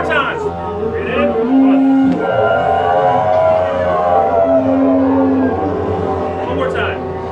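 A workshop participant buzzes their lips in a rising and falling siren-like drone, sustained tones sweeping up and down alongside other buzzing voices in a group warm-up, loud and close.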